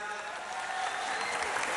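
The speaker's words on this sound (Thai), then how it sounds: "ขอเสียงปรบมือด้วยครับ" Brief, dense audience applause at a Thai televised singing competition finale night, a continuous burst of clapping from a large studio crowd.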